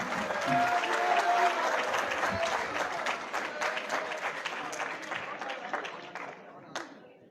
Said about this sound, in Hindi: एक बार अपने लिए तालियां बजाएं